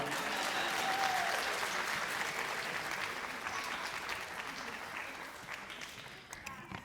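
Steady applause from a school audience for kindergarten poetry reciters at a district literacy competition, a dense, even wash of many hands that fades slightly toward the end.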